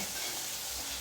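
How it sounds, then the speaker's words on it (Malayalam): Tomatoes, shallots, green chillies and curry leaves sautéing in a pan for a backwater fish dish, giving a brief, steady, fairly faint sizzle with no voices. "തക്കാളിയും ചെറിയ ഉള്ളിയും പച്ചമുളകും കറിവേപ്പിലയും കൂടി നന്നായിട്ടൊന്ന് വഴറ്റണം"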